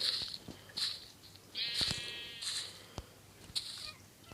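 Repeated short bleats of sheep in Minecraft, several separate calls spaced about a second apart over quiet background, with a few faint clicks between them.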